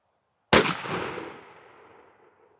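A Stevens 301 20 gauge shotgun fires one Hevi-Shot Hevi Bismuth 3-inch turkey load, a single sharp, loud blast after brief silence, followed by a decaying echo that fades over about two seconds.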